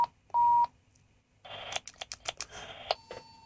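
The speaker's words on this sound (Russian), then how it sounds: "Сейчас другие тоны будут передаваться" Selective-call tone bursts sent over an HF radio: a short steady beep, a pause, then a quick sequence of distinct dialing-style tones, fairly faint with a soft noisy background.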